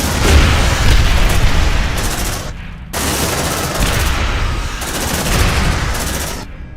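A grenade blows up in the video game Aliens: Dark Descent amid loud, continuous gunfire and booming blasts of combat, dense and close throughout with a couple of short dips in the din.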